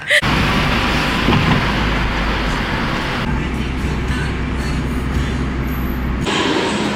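Steady loud rumble at a train station in Kenitra, Morocco, a continuous low drone with a sharp knock at the start and a shift in tone partway through, ending with a brief change in the noise.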